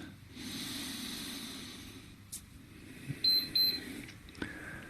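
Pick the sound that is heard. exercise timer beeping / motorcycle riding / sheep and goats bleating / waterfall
exercise timer beeping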